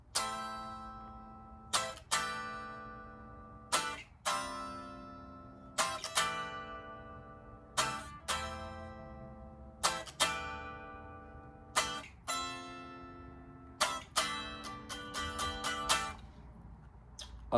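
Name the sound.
guitar playing intro rhythm of a song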